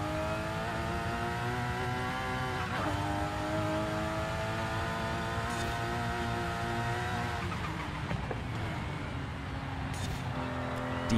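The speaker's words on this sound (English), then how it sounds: "Hard brakes, downshift through the corner. Floor it, and we're golden." Supra engine in a racing game droning steadily, dipping as it brakes and downshifts through a corner, then revving back up under hard acceleration, loud and continuous.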